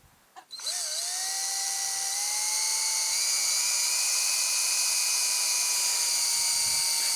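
A power drill bores into wood on a chicken coop extension, starting after a short handling knock and then holding a steady, loud whine that rises slightly in pitch as it runs.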